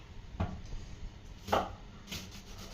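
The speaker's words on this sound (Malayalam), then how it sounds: "ഇനി നമുക്കിത് അരിയാം" A knife cuts through peeled wild lemon for pickle on a board in three distinct, widely spaced chops, each a short dull thud, fairly quiet against low room noise.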